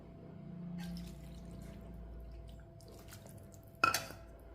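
Soaked, hand-dissolved tamarind water is poured into a cooking pan for a thokku, making a soft, faint liquid wash with one sharper clatter near the end.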